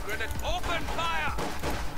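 Gunfire in the World War II strategy game Company of Heroes 2, with steady shots and bursts kept under loud, continuous soldier voice lines shouting commands throughout.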